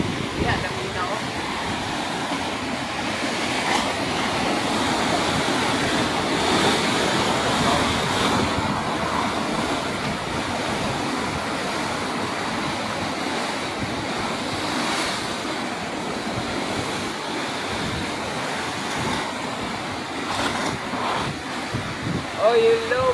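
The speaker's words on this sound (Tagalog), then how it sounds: "Laki talaga yung alon dito guys." Ocean waves surge and crash repeatedly close by, a broad continuous wash with wind noise, and faint voices occasionally under the surf.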